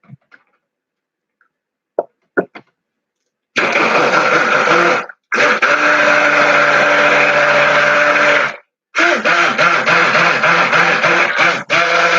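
Some soft clicks and taps, then a stick blender whirs loudly in long bursts mixing cold process goat milk soap, stopping briefly between runs.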